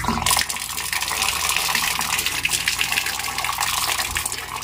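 Running water pours steadily over fish being washed at a muddy wet market stall in Bulongan Market, Parañaque, a continuous close splashing gush with no talk.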